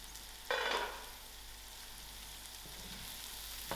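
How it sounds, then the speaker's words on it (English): Tomatoes with salt frying in a pan, making a soft, steady sizzle with a brief louder burst of crackling early on, close and without talk. "I'll allow the tomatoes to cook out."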